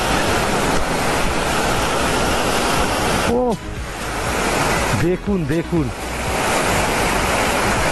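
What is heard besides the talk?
waterfall in the Himalayas on a sunny day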